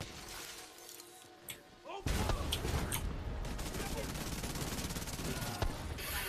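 A thrown grenade in The Division 2 bursts after a quiet lead-in, followed by a loud chaotic spray of gunfire, shattering and crashing debris; voices are faintly present in the mix.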